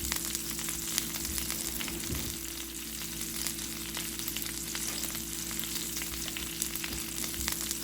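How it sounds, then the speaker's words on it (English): Steak sizzling in a pan, a steady loud crackling hiss with small pops throughout, no voices. "I'm going to leave you with this sizzling steak"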